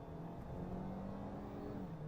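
A 2022 Ford Maverick Lariat pickup with the 250-horsepower EcoBoost engine pulls forward, its engine a faint, smooth hum whose pitch climbs gently and then eases off.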